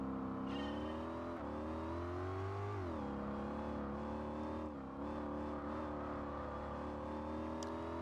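The supercharged Jaguar engine in Gran Turismo 4 drones loud and steady, with its pitch rising through the gears as each shift briefly dips the tone, and no talking over it.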